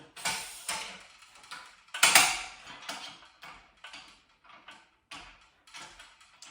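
Ratcheting clicks from a stringing machine pulling tension on a 2020 Babolat Pure Drive racket string, a series of sharp mechanical bursts, with one louder pull near the middle, then smaller clicks that fade out.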